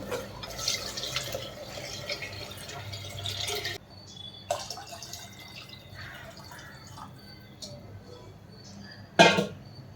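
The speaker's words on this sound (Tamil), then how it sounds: "இப்போ புளி கரைசலை ஊற்றிக்கலாம்" Tamarind extract being poured into a pan of sautéed tomato for rasam, a wet dripping and trickling of liquid with a brief louder splash near the end, fairly close and with no talk.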